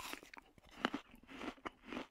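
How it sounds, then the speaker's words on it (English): A worm munching its way out of an apple, rendered as a crunchy chewing sound effect: several close, crisp bites and crunches in an uneven rhythm over about two seconds, with no talk. "crunched a worm, munching its way out of an apple"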